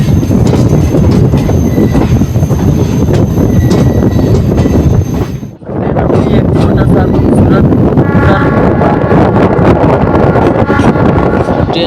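A passenger train pulls out of Churk railway station and rounds a curve, a loud, continuous rumble of rolling wheels with metallic wheel squeal and wind buffeting the microphone, briefly dipping near the middle before surging back.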